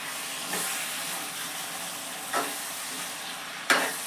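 Spinach and potato curry hisses softly in a pan, with three separate scraping stirs, the last one sharpest, over a steady low sizzle.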